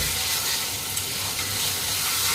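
Mutton liver fries in bubbling hot oil, a loud, continuous close-up sizzle and hiss with no voices.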